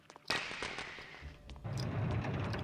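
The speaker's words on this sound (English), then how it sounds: "I love that sound. It's like, I don't know if it's like a firecracker" Fire seeds crackle and pop in the Harry Potter and the Philosopher's Stone PC game. A burst of sharp snaps opens the sequence, then irregular crackles settle over a low, steady rumble, all faint and without talk.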